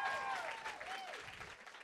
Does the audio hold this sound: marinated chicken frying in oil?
no